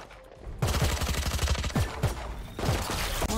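Gunfire in a shooting video game: rapid, loud automatic bursts crackling in quick succession, with a brief pause and then another volley, no talking.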